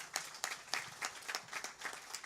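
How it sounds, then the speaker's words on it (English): Audience applause for Pandit Narad Gosai at a Bhaagwat Maha Puraan Yajna at the Shiva Ganesh Mandir, fairly faint, with individual sharp claps in a loose rhythm rather than a dense roar. "Give him a big round of applause."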